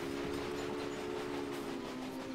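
A train in the video game Railway Empire rolls along with a continuous, even rumble and a steady hum, heard alone without talk.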